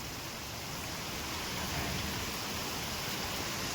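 Steady, dense monsoon rain hiss in Kutch, Gujarat, constant and enveloping with no breaks or voices.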